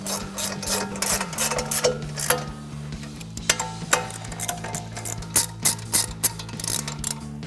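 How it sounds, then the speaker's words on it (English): A ratchet with a 21mm socket tightens bolts during a front CV axle and hub install on a RAM 1500, giving rapid clicking bursts with short pauses, loud and close with no talk. "Grab our ratchet and 21mm socket, tighten those two down."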